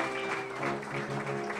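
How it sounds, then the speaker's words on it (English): Audience applause at the close of an evening event, a steady wash of clapping from a room full of people, fairly quiet and continuous with some tonal music or voices faintly underneath. "please give them just for the end and for the whole evening a great applause"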